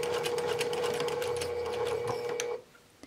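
A sewing machine stitches the seam of a composition book cover, its steady rapid motor whir and needle clatter running continuously and close up for about two and a half seconds before stopping abruptly.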